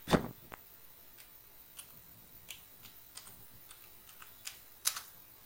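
Someone types on a computer keyboard with scattered, irregular key clicks close by in a quiet room, starting with one sharp louder tap followed by sparse lighter presses.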